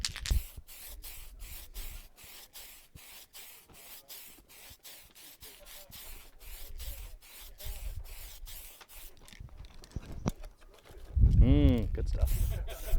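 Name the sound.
airbrush spraying camo paint on a model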